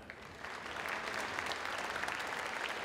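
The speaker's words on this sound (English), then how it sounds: "let's have a huge round of applause for the class of 2019 valedictorians and salutatorians from Henry Ford II High School" A high school graduation audience at Henry Ford II High School applauds, a steady dense clapping that swells slightly and holds for several seconds, with no speech over it.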